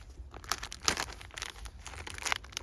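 Close, crinkly rustling of a plastic American military MRE ration packet being handled and torn open, in irregular bursts of crackles.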